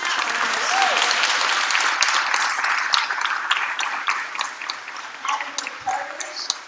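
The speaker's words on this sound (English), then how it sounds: "can we just applaud this panel?" A conference audience at a panel on making college affordable applauds steadily and loudly for several seconds, with a broad wash of clapping and a few sharper individual claps.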